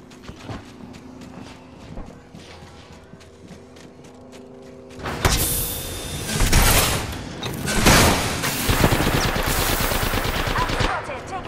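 In an Apex Legends match, quiet clicks and footsteps give way midway to loud, sustained automatic gunfire, rapid close bursts continuing to the end.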